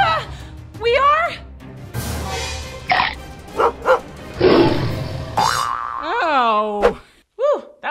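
A small dog barks a few times amid cartoonish boing effects and animated voices in a children's storytime, the yaps short and sharp between springy sound effects and talk.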